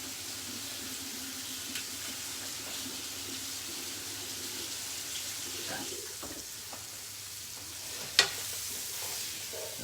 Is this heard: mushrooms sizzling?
yes